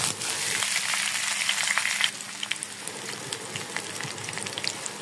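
Boiled potatoes fry with onions in a pan, a loud dense sizzle at first that drops after a couple of seconds into quieter crackling with scattered pops as the mixture is stirred.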